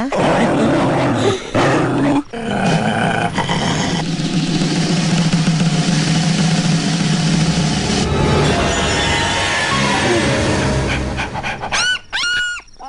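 A voice mimics a dog, growling and panting harshly for several seconds, loud and close, with a few sharp breathy bursts near the end.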